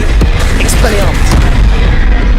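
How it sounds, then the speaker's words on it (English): An Expelliarmus disarming spell lands in a Hogwarts Legacy fight, a heavy booming blast with a quick whooshing sweep, loud and close over constant battle rumble, with a voice in the mix. "Expelliarmus!"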